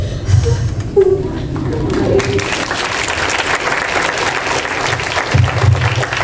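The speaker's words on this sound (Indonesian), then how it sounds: "Mungkin tepuk tangan yang mulia sekali lagi" Audience applause at a university public lecture on student mental health: dense, sustained clapping from a large crowd, loud and even across the whole stretch, with a voice briefly audible at the start and end.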